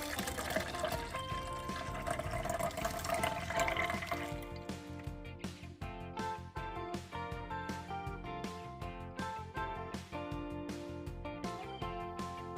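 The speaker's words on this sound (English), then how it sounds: "the juice is finished, so I am gonna let out my first batch of juice" Freshly made juice pours out of a juicer in a continuous liquid stream, faint and close, largely masked by background music with steady rhythmic beats.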